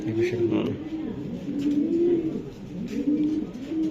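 Racing pigeons coo nearby in repeated, rolling low calls that rise and fall in a steady rhythm, several overlapping throughout.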